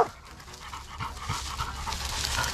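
A big dog, a pitbull used for hunting, pants rapidly and harshly up close in a continuous rhythmic stream with no talking.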